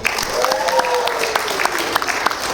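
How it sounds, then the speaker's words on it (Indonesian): Applause from an audience at a health talk by a doctor, steady clapping throughout with a voice briefly speaking over it. "Boleh tepuk tangan."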